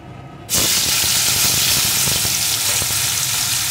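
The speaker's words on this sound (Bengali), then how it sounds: "পেঁয়াজ কুচিটা একটু ভেজে নেব।" Chopped onion dropped into hot oil with whole cumin for a crab curry, a sudden loud sizzle bursting in after half a second of quiet, then a steady, hissing fry close by.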